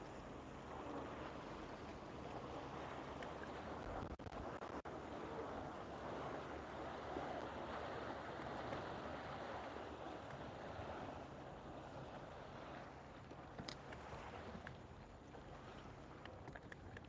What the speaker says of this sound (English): Still coming, the waves are.